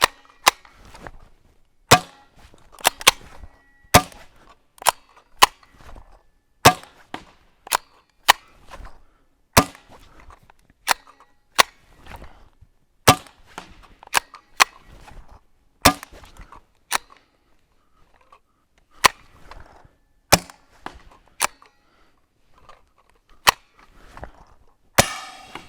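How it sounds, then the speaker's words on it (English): A custom Trapmaster conversion paintball gun powered by 12-gram cartridges fires at high velocity, giving a long series of sharp, isolated pops at irregular intervals, close and loud against otherwise quiet surroundings. "So now let's shoot it at high velocity and see if I can hit that target."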